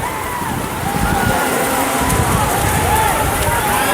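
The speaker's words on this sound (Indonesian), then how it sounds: "Hujan rintik-rintik, bukan cuma rintik-rintik kalau wilayah sini, deras di sini." Heavy rain falls hard at an outdoor football match, a loud, constant wash of noise throughout, with people talking over it.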